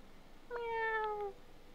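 A cat meows once in the video game Star Stable Online, a clear, drawn-out mid-pitched call of a little under a second, heard close and alone against quiet background.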